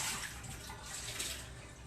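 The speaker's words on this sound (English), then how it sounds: "you have to just pour it into another teapot" Tea being decanted from one teapot into a second to strain out the leaves, a steady, close liquid pour running unbroken for about two seconds with no talking.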